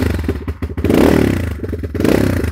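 A Factory AK47 250 motorcycle engine turns over on the electric starter and catches, then idles with a low, uneven rumble and a brief rev, close by.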